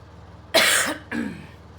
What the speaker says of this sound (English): I don't know what that cough's about.